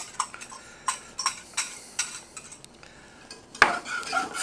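A spoon stirs heavy cream into a pan on low heat, giving soft scraping strokes and light clinks against the metal. A sharper knock comes near the end. The sounds are close and quiet, with no voices.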